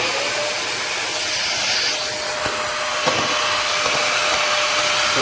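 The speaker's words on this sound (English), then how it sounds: "let's try to compare that with a real actual vacuum cleaner" A household vacuum cleaner about five or six years old runs close and loud, a steady high-pitched motor whine and rushing airflow holding constant throughout with a few faint knocks.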